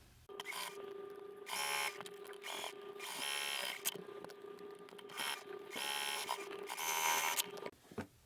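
A sewing machine stitches a quarter-inch seam down the sides of quilted stocking fabric, running in several bursts of steady, close, buzzing mechanical whirring separated by short pauses, with no voices.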